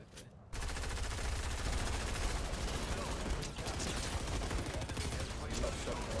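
Sniper rifle fire in Fortnite on PS5, a steady, dense stretch of game combat with repeated shots blending into a continuous loud wash of gunfire and action sounds.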